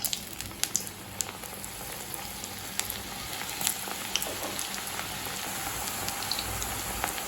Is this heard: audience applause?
no